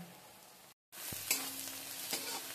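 Spices are stirred into a pan of fish head moong dal, producing a soft continuous sizzle with a brief pause and a couple of light clinks from the spoon, faint and close.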